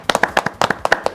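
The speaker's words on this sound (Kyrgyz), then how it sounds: "Илим командасына кол чабуулар болсун." Audience at a Kyrgyz school quiz contest clapping for a team, a loose run of sharp, fairly close hand claps at a moderate pace, with no talk over it.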